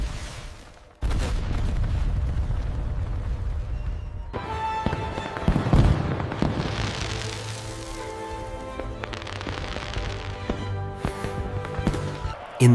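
Fireworks burst in an animated story, a sharp opening bang followed by a sustained stretch of booming explosions and crackling, layered over a dramatic music score.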